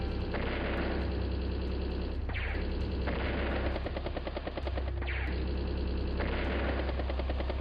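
Units fire shots at a battle copter and infantry in Advance Wars: Days of Ruin, rapid machine-gun rattles repeating in several bursts over a constant droning whir, steady and close with no talking.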